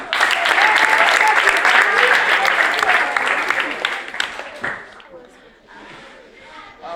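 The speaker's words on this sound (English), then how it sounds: "I said clap for me again." A college of science spelling bee audience breaks into loud, dense applause with cheering voices. It holds strong for about four seconds, then thins out to scattered claps and quiet murmuring.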